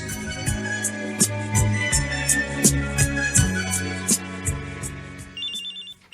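A cellphone ringtone plays from inside a knapsack, a repeating melodic pattern in steady rhythmic phrases, fairly loud and clear, ending with a brief higher beeping tone.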